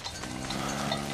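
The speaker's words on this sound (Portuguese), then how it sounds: "Ovelhas vagando livres e nenhum pastor à vista." Sheep roaming free in an open field, a faint, brief bleat mixed with low livestock ambience and distant rustling, lasting about a second.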